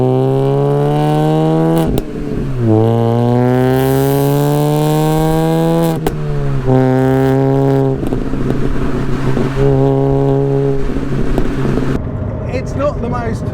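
A 220 bhp Mini Cooper R53 engine revs hard on a road, climbing through the gears with loud rising whines, each interrupted by a short gear-change dip, heard close up from inside the car.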